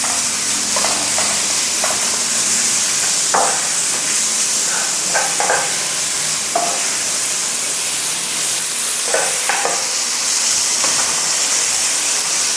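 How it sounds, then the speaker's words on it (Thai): Thinly sliced pork belly stir-frying in a hot pan, a loud continuous sizzle and hiss with occasional scraping stirs and small pops, steady throughout with no talking. "ผัดให้หมูสามชั้นสุก"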